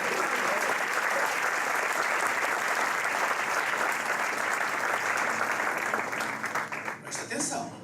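Sustained applause from a church congregation at a regional inauguration service in Rio de Janeiro, dense steady clapping filling the room for about seven seconds before thinning out near the end.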